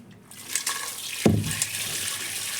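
Cut meat rinsed under running tap water in a kitchen, a steady faucet stream with a brief louder splash and gush midway as the pieces are handled, close and without talking.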